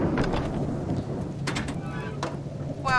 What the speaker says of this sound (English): Wow, that storm is very loud.